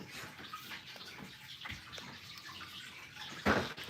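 Water runs from a tap into a container to fill a pet's water dish, a soft continuous trickle close by with a louder splash near the end.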